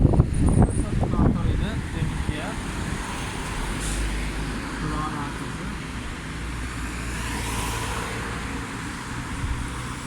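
Street traffic passing the bus stops on Sakarya Street, a continuous roadway rumble of cars and buses with engines swelling and fading, plus brief busy sounds near the start.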